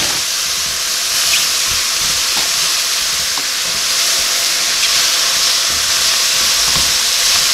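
Frozen green beans warm in a hot pan with a steady, close hiss and sizzle that runs unbroken throughout, with no voices.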